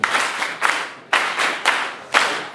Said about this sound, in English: Please, a standardized hand clap.